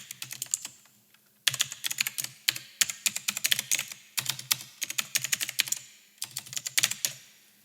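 Fingers type a website address on a computer keyboard, rapid close clicking keystrokes in several bursts separated by short pauses, steady and fairly quiet, with no speech.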